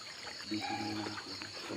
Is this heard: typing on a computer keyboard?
no